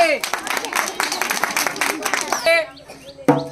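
Audience applause at an outdoor drum-beating prize game, a dense burst of claps lasting a couple of seconds, then a pause and a short sharp return, with voices and chatter mixed in.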